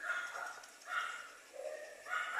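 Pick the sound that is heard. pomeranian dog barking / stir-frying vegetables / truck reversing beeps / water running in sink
pomeranian dog barking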